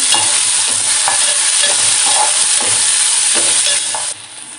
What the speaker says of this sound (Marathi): टोमॅटोही आपल्याला छान असा परतून घ्यायचा आहे